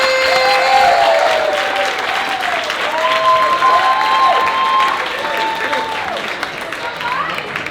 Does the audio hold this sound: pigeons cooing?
no